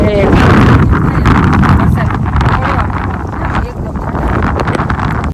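Strong storm wind gusts across an outdoor village setting, loud rumbling buffets hitting the microphone and easing slightly midway, while people talk over it.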